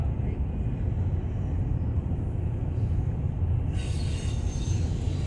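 A freight train made up of container cars rolls past at speed with a steady, loud rumble of wheels and cars throughout, and a brighter metallic rattle or squeal joins in near the end.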